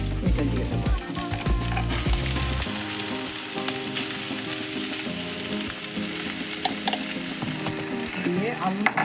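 Boiled mashed potato is stirred into a sizzling pan of fried banana flower mixture for chop, with steady frying hiss under repeated scraping and stirring of a spoon against the pan, close and moderately loud.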